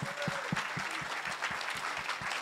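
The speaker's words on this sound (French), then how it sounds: "Et on peut les applaudir, s'il vous plaît." Applause from the audience at a live awards event, fairly faint and distant, with steady clapping and a few distinct nearer claps standing out.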